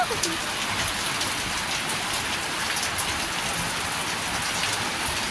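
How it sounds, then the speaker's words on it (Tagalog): Heavy rain roars constantly on a damaged house roof, a thick unbroken hiss of drops pounding a surface, loud and close throughout. "Lakas ng ulan po."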